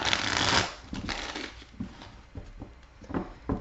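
Close, steady shuffling of tarot cards, a papery riffling and sliding with soft taps, continuing throughout with no voices.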